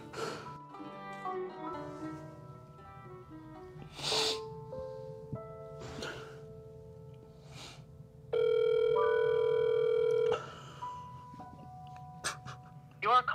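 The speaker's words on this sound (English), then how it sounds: "he reaches for the phone and dials his mom's number" A phone is dialed, with a run of short tones, then a long steady tone sounds alone before fading back to a quiet room, and the call goes unanswered.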